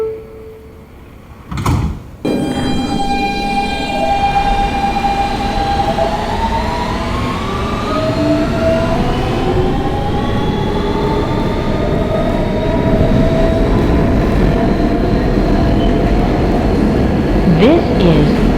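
R160B Siemens subway car on a Manhattan-bound W local pulling away after a door chime, its motor whine rising in pitch as it accelerates, then a loud steady rumble of wheels on rails.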